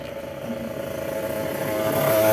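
Motorcycle engine running steadily at moderate distance, a continuous droning hum that grows slightly louder toward the end, heard outdoors.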